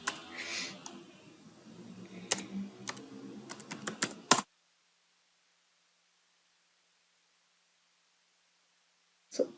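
Keys clatter on a computer keyboard in a quick, close burst of typing for about four seconds, then silence until a single final keystroke at the end.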